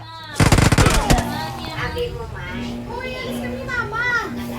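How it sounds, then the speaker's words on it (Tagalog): Loud, close gunfire from an M24 sniper rifle in a shooting video game, a dense volley of sharp cracks lasting under a second, followed by young voices talking over quieter game sounds. "Ito ang M24, yung sniper."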